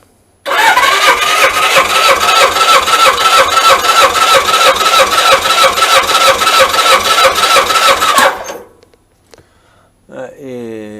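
A Suzuki GS1000 motorcycle engine blips hard at full throttle, a loud, dense rapid-fire roar held steady for about eight seconds before cutting off sharply and dropping away, with a brief voice afterward.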